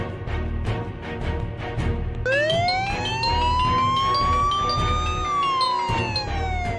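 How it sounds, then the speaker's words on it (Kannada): An emergency vehicle siren starts partway through and wails loudly, its pitch rising slowly, holding, then falling, heard over a low rumbling background. "ಕಾಲ್ ಪಿಕ್ ಮಾಡಿದ್ರೆ ಸೈರನ್ಸ್ ಒಂದು ಕೇಳುತ್ತೆ."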